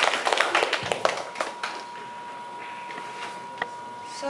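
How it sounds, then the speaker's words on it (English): A scattered round of audience applause after a conference presentation, a burst of clapping that thins out within a couple of seconds, leaving a quiet room with a faint steady hum and an isolated tap. "give them a big applause"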